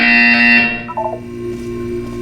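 In the Portal 2 video game, a loud, harsh electronic buzzer sounds for about half a second, then breaks off into a quieter tonal hum.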